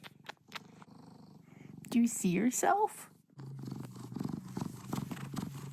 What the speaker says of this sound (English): Oh, you hear him purring?